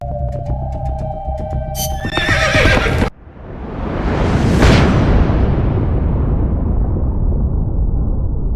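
A horse whinnies in the Metal Gear Solid Peace Walker video game, loud and clear over game music, then the music cuts and a long roaring rumble swells and lingers.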